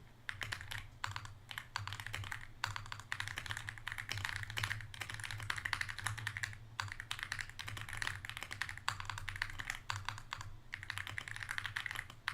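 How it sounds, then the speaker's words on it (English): Rapid, continuous typing on a pre-lubricated computer keyboard, with dense tappy keystrokes close to the microphone and brief pauses between bursts. "That's a very tappy keyboard."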